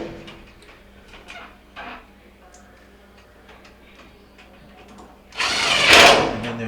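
Power drill driving screws into the ends of the electronic control panel on a Whirlpool dryer during a repair: quiet handling ticks and clicks, then a loud, close drill whir near the end.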